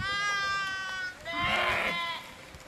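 Young goat and sheep kids bleat repeatedly on a Himalayan shepherds' migration route, a couple of clear, fairly loud overlapping cries with no talk.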